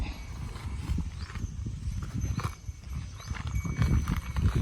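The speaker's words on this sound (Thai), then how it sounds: "วันนี้ก็มาปล่อยควายกินหญ้าค่ะ ที่บริเวณด้านหลังสวน" A young male water buffalo, about one year and four months old, walks out to graze behind a rural garden, with its hooves thudding and scuffing in an uneven rhythm close by, among light outdoor rustling and no talk.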